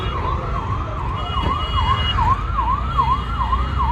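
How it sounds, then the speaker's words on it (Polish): A loud, wailing ambulance siren cycles up and down rapidly and continuously, heard close amid low rumbling street noise on a street-food street in India. "Karetka."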